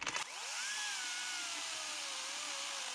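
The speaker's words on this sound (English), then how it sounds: "With a petrol-powered chainsaw" A steady, high-pitched engine whine of a petrol chainsaw cutting firewood, continuous and loud after a brief start, pitch drifting slightly as it bites.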